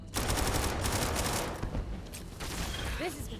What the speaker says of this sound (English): Let me bring out my pistol.